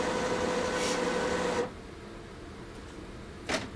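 A printer draws paper through its rear feed slot with a steady mechanical whir and faint whine that stops abruptly partway, leaving low room noise before a short final burst of motor noise.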